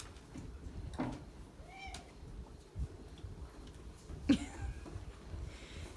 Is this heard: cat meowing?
yes